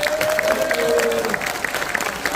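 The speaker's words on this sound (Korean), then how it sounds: "큰 박수 한번 보내주셨습니다" An audience at a political gathering gives sustained applause, a steady, dense wash of clapping with a murmur of voices underneath.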